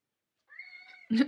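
A cat gives a short, close meow, a thin tonal call followed by a louder burst at the end, in an otherwise quiet room.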